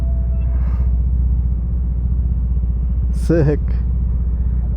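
A Vespa 150 scooter engine rumbles steadily in downtown Las Vegas during an informal drag race, a close constant drone, with a brief exclamation from a rider near the end.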